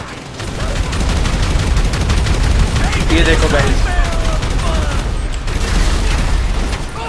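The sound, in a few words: gunfire and explosions from fire-bullet cheat in GTA V video game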